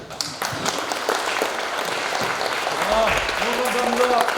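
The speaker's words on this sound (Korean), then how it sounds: "다시 한번 큰 격려와 감사의 박수를 부탁을 드리겠습니다" A crowd claps steadily at a residents' briefing meeting, the sound of applause filling the room while voices can be heard alongside it.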